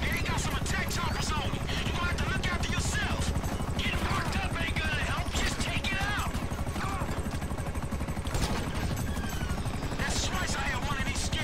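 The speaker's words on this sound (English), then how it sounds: "Helicopter." A helicopter in the video game GTA V during the Merryweather heist freighter approach, a steady rotor drone under gunfire-like crackles, game effects and talk throughout.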